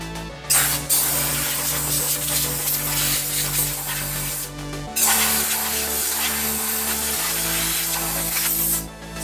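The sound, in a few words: cleaning a Solis 26 tractor radiator grill with spray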